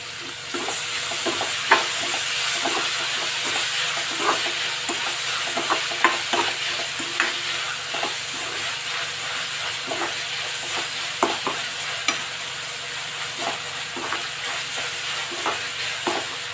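Tomatoes fry in a pan with a steady sizzle while a spoon scrapes and stirs in repeated sharp clicks, close and alone with no voices, for a dish of Bombay sagu served with wheat-flour puris.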